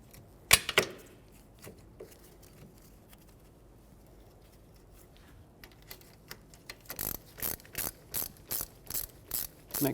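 A hand ratchet tightening hub mounting bolts on a Subaru Crosstrek: a few scattered clicks and a sharp clack early on, then a steady run of evenly spaced, crisp ratcheting bursts toward the end, close and fairly quiet.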